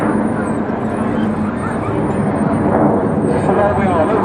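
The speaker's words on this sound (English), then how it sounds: "They're climbing rapidly up now to a mile above us." Red Arrows jet aircraft at an airshow climb in formation overhead, producing a loud, broad, continuous roar that holds steady throughout.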